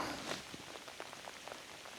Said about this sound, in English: The rain is obviously starting to come down